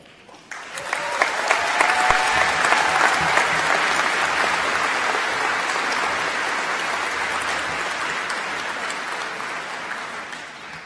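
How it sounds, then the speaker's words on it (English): An audience at a commencement ceremony bursts into warm applause that swells quickly and holds steady as a dense, even clatter of many hands. "please join me in giving Mike Bowman another warm round of applause"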